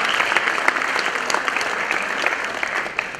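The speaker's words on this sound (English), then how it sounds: "Please keep the applause going" Audience applauding at a school annual function, a dense, sustained wash of clapping from a large crowd with no break, steady and fairly loud.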